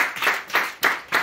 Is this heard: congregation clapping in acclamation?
yes